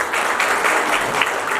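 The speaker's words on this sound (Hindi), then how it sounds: "गीता जी के पिताश्री के लिए जोरदार तालियां हो जाए" Applause fills the stage hall for Geeta's father, a steady, dense clapping from a large audience that holds at an even loudness throughout, with no talk over it.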